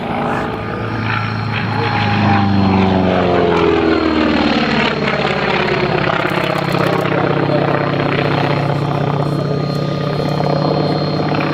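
A Grumman Wildcat, the WWII Navy and Marine Corps fighter, flies by with a loud, steady propeller engine drone that rises and falls in pitch as it passes, while a voice talks over it.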